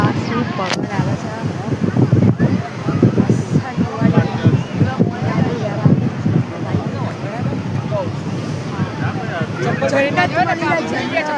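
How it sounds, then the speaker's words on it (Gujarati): Strong sea wind at Shivrajpur beach near Dwarka roars steadily into the microphone, a constant rushing buffet under people talking and laughing nearby. "હા હા, શું પવન આવે છે."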